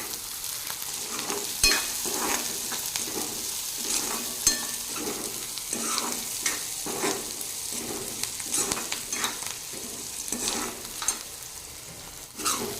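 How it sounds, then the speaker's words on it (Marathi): Chopped onions sautéing in a pan with cumin seeds for a wild greens dish, a steady sizzle broken by repeated scraping stirs and light crackles throughout. "कांदे छान परतून घेत आहे"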